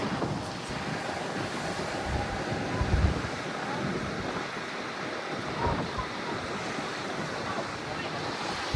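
Strong wind buffeting the microphone over the rush of ocean waves breaking nearby at a coral limestone natural bridge on Aruba, with a couple of louder gusts.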